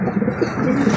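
Domestic homing pigeons in Sariaya, Quezon, cooing close by, with soft throaty warbles repeating over a brief moment and no talk.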